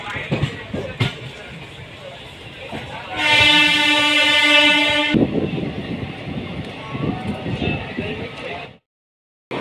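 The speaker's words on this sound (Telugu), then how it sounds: "మనం ఇప్పుడే మలక్పేట్ రైల్వే స్టేషన్ స్కిప్ చేస్తున్నాం" A train horn sounds for about two seconds mid-clip, loud and sustained with strong harmonics, while a train passes through Malakpet railway station in Hyderabad; rumbling rail noise and some talk surround it before it cuts to silence.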